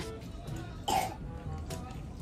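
A single sharp cough stands out near the middle over quiet background sounds, with faint murmuring around it, at a birthday party.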